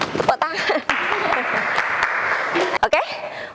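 Applause in a classroom lesson, a short burst of students clapping together under a teacher's voice, loud and close, with talking at the start and end.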